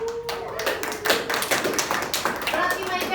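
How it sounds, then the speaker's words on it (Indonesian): Classroom pupils clapping for a classmate, a loose, uneven patter of individual claps from a small group close by, with a teacher's voice and children's chatter mixed in. "Tepuk tangan dulu untuk Maika."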